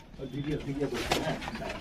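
A breeding pair of Andhra pigeons coos in low, soft murmurs beneath steady close-up talking.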